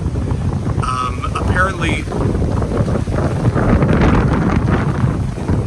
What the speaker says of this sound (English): something that nobody seems to tell you, is that it is windy